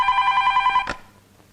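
A telephone bell rings loudly and close in a steady electronic trill, then cuts off abruptly as it is answered, leaving only faint room noise behind.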